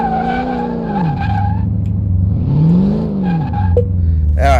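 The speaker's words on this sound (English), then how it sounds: "now we need to do a braking test." Chevy Astro tires skid during a braking test in Car Mechanic Simulator, with a wavering tonal squeal rising and falling over a steady low engine hum. The sound is loud and near, ending with a short sharp burst.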